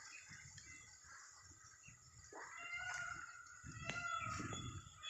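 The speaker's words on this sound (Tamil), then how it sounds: "ஒரு மயில் வந்து நல்லா அகவை பண்ணுது, அதையும் பாருங்கள்" A peacock calls in an areca nut plantation, a few distant, faint, harsh wailing cries rising over quiet rustling outdoor background.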